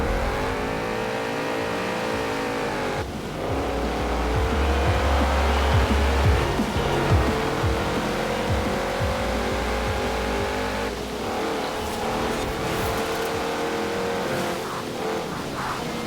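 Porsche 928 GTS, a rear-wheel-drive V8, racing in the rain in Forza Horizon 4, its engine droning steadily with rising and falling revs and gear changes, loud and close with no talk.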